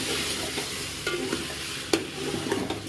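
Cauliflower stirred and sautéed in a pan, a soft steady sizzle broken by a few sharp scraping clacks of the spoon against the metal.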